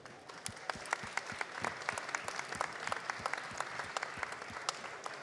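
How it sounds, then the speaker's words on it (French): Audience at an award ceremony applauds the jury members, a steady full round of clapping from a sizeable crowd, close and even throughout with distinct individual claps in the mix. "Vous pouvez les applaudir."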